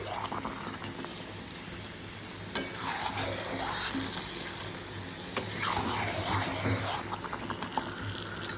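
Chicken pieces fry in a pan with no water added, cooking in their own juices: a moderate, even sizzle with occasional sharp spatula knocks and stirring, heard close by.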